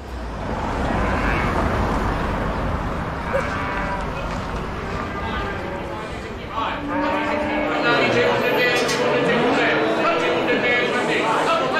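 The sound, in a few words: cows mooing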